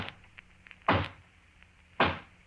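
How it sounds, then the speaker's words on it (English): Two hollow knocks on a front door, a radio drama sound effect from a 1952 mystery show, each a sharp, close thump about a second apart against a quiet background. "And then there's the hollow knock on the front door."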